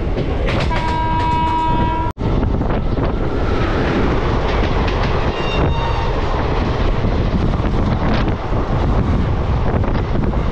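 A local train running on the new Kolkata to Darjeeling route, loud steady rumble and rattling wagons with heavy wind buffeting, a horn-like tone sounding early, heard from on board with no talking.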